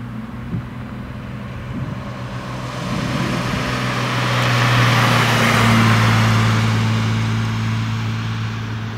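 A 1969 Mercedes 230 sedan with a four-speed column-free center shift drives along, its engine a steady low hum with road and wind noise swelling midway, heard from inside without talk.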